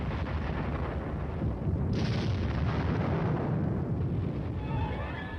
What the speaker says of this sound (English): Under the cover of continued artillery air bursts, the team advances